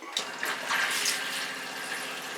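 Water tap in a motor home running under pressure from the onboard pump, a steady broadband rush of flowing water that starts abruptly and keeps going at an even level, with no talking.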